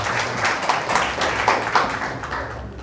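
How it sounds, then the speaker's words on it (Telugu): Congregation clapping during a Sunday Christmas worship service, a steady dense wash of hands filling the hall for about three seconds at moderate loudness. "చప్పట్లు కొట్టి దింపచ్చండి"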